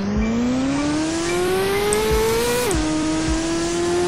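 Loud engine of a reverse sleeper car in the Roblox game Driving Empire, holding a steady rising drone with layered harmonics that dips briefly partway through, alone with no voices.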